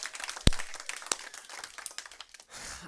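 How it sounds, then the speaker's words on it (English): A church congregation claps together in a sanctuary: brief, moderately loud applause that swells and then tapers off, with a couple of sharper claps standing out early. "Well, we can clap for that."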